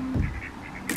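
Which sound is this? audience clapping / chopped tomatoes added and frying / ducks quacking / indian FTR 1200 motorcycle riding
ducks quacking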